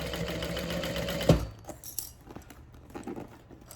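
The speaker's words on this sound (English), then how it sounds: "I'm gonna do some back stitching." A sewing machine stitches a Trailblazer backpack with a quick mechanical whir, then stops with a metallic clink as the bag is handled, followed by quieter rustling and faint clicks up close.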